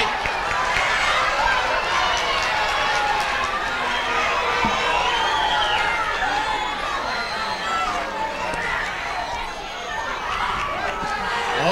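A school audience at a seventh-grade spelling bee claps, cheers and chatters in a loud, steady roar of crowd noise that fills the room without a break.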